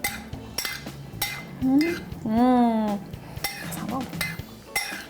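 Metal utensils clink and scrape against a pot or bowl while fusilli spirals are tossed with sauce, a close, irregular series of sharp knocks and rattles, with a brief spoken comment and a pleased hum in the middle.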